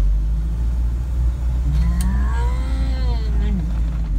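A 1979 Ford Pinto four-cylinder engine driving, a loud steady drone with rising and falling pitch as it pulls along, under a constant low rumble.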